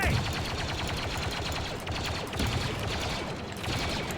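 Dense, continuous automatic gunfire from a Star Wars Battlefront 2 battle, a steady loud fusillade of rapid shots with explosions layered in, and no pauses across the stretch.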